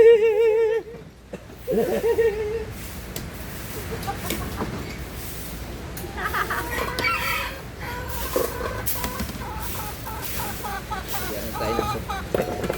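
Chickens cluck nearby, with sharp clucks and squawks at first and then a steady scatter of calls, and a human voice shows up only faintly.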